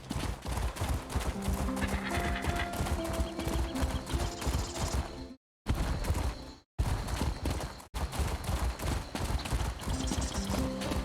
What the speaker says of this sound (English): You need to hop on a horse, lady.